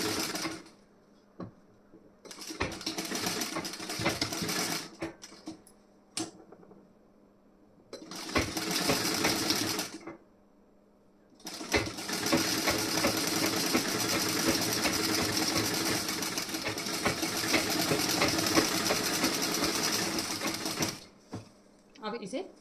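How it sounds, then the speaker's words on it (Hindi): Sewing machine stitching the front part of a blouse, running in several bursts of rapid, steady needle clatter separated by short pauses, close by, with a voice talking in between. "वो नीचे वाला हल्का सा आपको खींच के सिलाई लगानी है"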